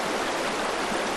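Continuous rushing water of a jungle waterfall, a steady dense hiss of flowing water heard alone with no pauses.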